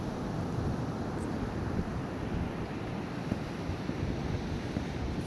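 Steady ocean surf rolling continuously at an open-air shoreline, a broad, unbroken wash of waves mixed with wind buffeting the microphone, loud and constant throughout with no voices.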